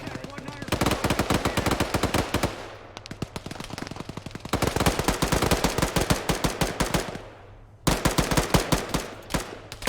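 Automatic gunfire in ArmA 3 infantry gameplay, long rapid bursts of close, loud shots broken by brief pauses, with a voice talking over the shooting.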